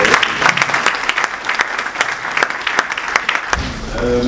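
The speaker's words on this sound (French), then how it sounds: "Donc je vous demande d'applaudir encore le ministre Sidi" An audience at a ceremony in Abidjan applauds a minister, with loud sharp individual claps standing out over a broad wash of clapping, ending as a voice returns.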